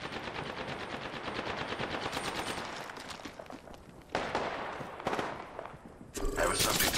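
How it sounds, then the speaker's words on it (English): Rapid automatic gunfire from the video game Apex Legends, a dense stream of shots with loud bursts near the end, mixed with other game sounds and some speech. "They're shooting at me!"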